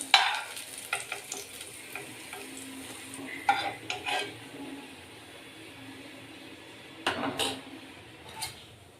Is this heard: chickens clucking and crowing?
no